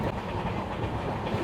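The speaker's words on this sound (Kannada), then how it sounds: "ಈಗ ನಾವು ಹೊರಟಿರೋ ಟ್ರೈನು ತಿರುಪತಿ ಇಂಟರ್ಸಿಟಿ ಎಕ್ಸ್ಪ್ರೆಸ್ಸು." The Tirupati Intercity Express runs from Bangalore toward Tirupati, heard from inside the train as a steady loud rumble with rhythmic clatter of the wheels on the rails.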